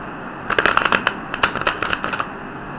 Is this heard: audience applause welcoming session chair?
no